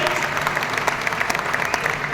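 Steady applause from an audience, a dense continuous patter of many hands clapping for a couple of seconds.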